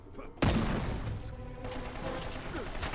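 Gunfire in the video game Uncharted: Drake's Fortune, a sudden sharp shot followed by a sustained burst of echoing, rumbling combat noise.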